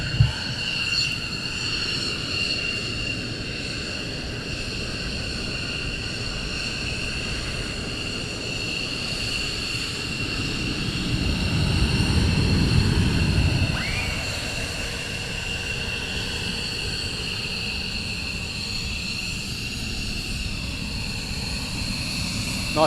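Military jet aircraft taxiing at RAF Lakenheath, a steady engine whine and roar with sustained high tones, swelling briefly as it passes nearer before settling back to a constant drone.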